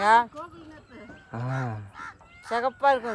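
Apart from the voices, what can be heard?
peacock calling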